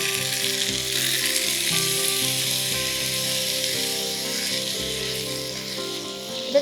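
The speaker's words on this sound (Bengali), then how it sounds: "যে রাইসটা দিলাম, এটাকে কিন্তু হাই ফ্লেমে 5 মিনিট ভাজতে হবে" Rice frying in ghee over a high flame, a loud, dense, continuous sizzle close up with a faint stir near the end and no talk.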